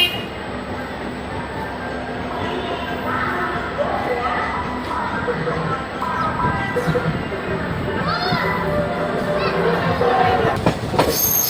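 A DMU train pulls away from a two-platform station on the Hajipur–Vaishali route, heard from inside with a steady rumble, wheel clatter and a few brief squeals, with crowd chatter and voices mixed in throughout.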